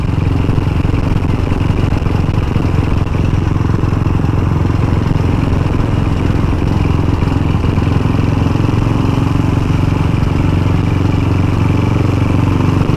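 A Velocette Venom motorcycle engine drones steadily at mid revs, just under 3,000 rpm, while riding, a loud, throaty exhaust note with faint mechanical clatter, no voices.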